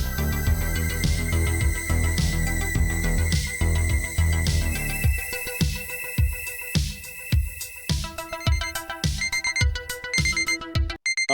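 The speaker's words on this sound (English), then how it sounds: "that's my alarm" A repeating electronic alarm tone rings on and on in a steady looping pattern, bright and insistent, with no voices.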